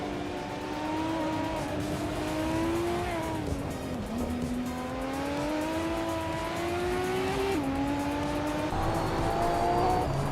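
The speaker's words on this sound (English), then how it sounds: "driving a 1994 Bugatti EB 110 LM" A 1994 Bugatti EB 110 LM race car in a racing video game: its engine drones loud and steady throughout, pitch climbing and then dropping sharply at two gear shifts, with no talk.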